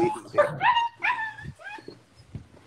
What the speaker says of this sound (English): Aww, puppy.